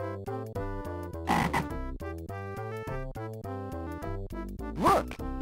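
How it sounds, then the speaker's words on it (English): In Barney's Hide & Seek Game on the Mega Drive, a cartoon frog gives two short croaks over a bouncy chiptune melody that plays throughout. "Let's play with the frog."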